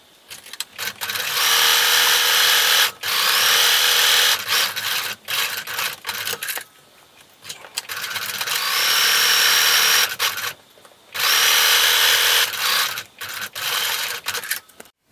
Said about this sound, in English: you're going to sew just each long side with a straight stitch and 3/8 inch seam allowance